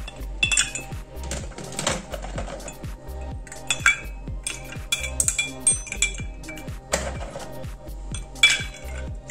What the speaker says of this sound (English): And now we can add ice.